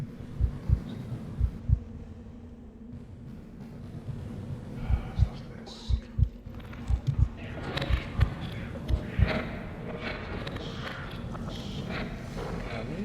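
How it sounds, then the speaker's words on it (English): A low, thumping heartbeat pulses in a steady double rhythm over a dark ambient hum, with faint rustling and scattered higher noises building toward the end, in a horror video game. "Hear a heartbeat"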